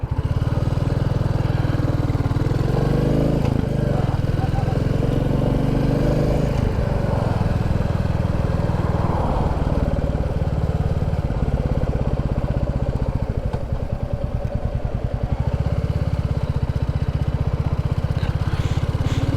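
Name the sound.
Royal Enfield Classic 350 motorcycle riding on road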